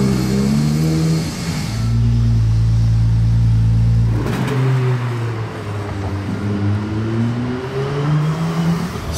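A Porsche pulls away outside the casino in Monaco, its engine revving loudly up through rising tones, a brief gap, then another strong climbing rev close by, with no voices.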